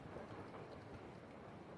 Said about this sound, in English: you can probably hear the rain. It's raining really hard.